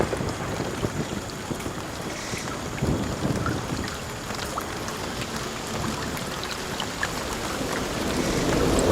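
Heavy rain pouring down in a rainforest, a dense, continuous broadband rush with faint patters and low rumbling, steady throughout and swelling slightly toward the end.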